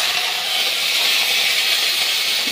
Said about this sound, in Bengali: এখন আমি বেগুন ভাজা করব।